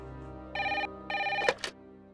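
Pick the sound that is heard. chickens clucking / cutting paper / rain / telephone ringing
telephone ringing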